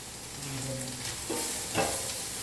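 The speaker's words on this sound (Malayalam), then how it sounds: "പാവയ്ക്ക കരിയുന്നു" Bitter gourd sizzles and starts to burn in a hot frying pan in a Kerala home kitchen, a steady close frying hiss with crackles and bursts of spattering and the occasional stir.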